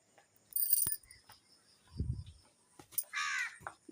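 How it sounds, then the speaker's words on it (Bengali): Birds calling outdoors at dawn, around five in the morning: a couple of short, loud calls and a brief harsher burst with harmonics, separated by quiet gaps and a low rumble in between. "দেখো পাখিরাও ডাকতে দিচ্ছে"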